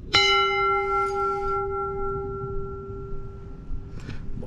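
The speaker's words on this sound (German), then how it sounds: "Interessant, man muss hier diese Glocke klingeln." A single bell at a campsite reception is struck once, ringing out loud and clear with a long sustained tone that slowly decays over several seconds, with faint background noise.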